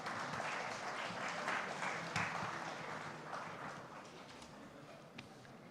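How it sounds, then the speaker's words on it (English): An audience at a formal event gives a sustained round of applause to welcome a guest of honour and dignitaries on the dais, a steady wash of many hands clapping, moderately distant and gradually easing off. "join me in welcoming our guest of honor and other dignitaries on the dais with a"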